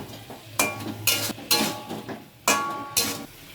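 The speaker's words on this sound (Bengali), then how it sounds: "আলুটার সাথে মশলাটা খুব ভালো করে নাড়াচাড়া করে মাখিয়ে নিচ্ছি" Spiced fried potatoes being stirred in a pan: a run of sharp, close spoon-on-metal scrapes and clinks in an uneven rhythm, about six distinct strokes over a low background hiss.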